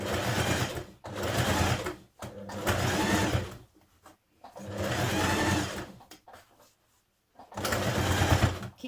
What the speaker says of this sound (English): stitch a couple of millimetres from the edge of the seam here